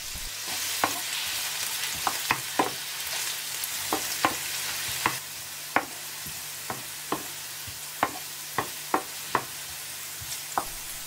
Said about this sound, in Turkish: Yağ kızdıktan sonra öncelikle içerisine havuçları ilave ediyoruz.